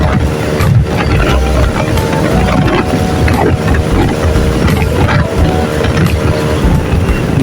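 A Yamaha Mio i 125 scooter engine revs hard at speed, a loud, buzzing, slightly fluctuating drone with wind rush mixed in, close and continuous throughout.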